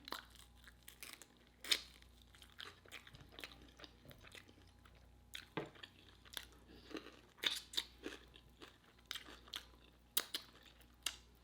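Crunchy, wet chewing and biting on Popeyes Sweet N Smokey Chipotle chicken wings, eaten at home, with close, irregular bursts of crunch scattered over a quiet background and no talking.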